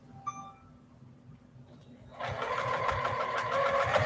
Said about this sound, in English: I'm going to go ahead and sew this down.